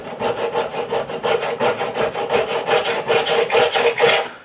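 Rhythmic scraping of hard, still-setting epoxy off a Warwick Corvette Double Buck bass guitar neck, with steady back-and-forth strokes, close, loud and continuous, no talk.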